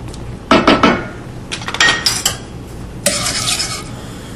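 A wire whisk clatters against a pot while stirring a barbecue sauce mixture with broth, in several sharp bursts of metallic scraping and clinking separated by short pauses.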